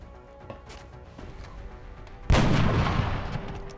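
A rocket launched in the video game XCOM Enemy Within erupts as a single loud blast partway through, followed by a rumbling, decaying roar after a quieter stretch of low background sound.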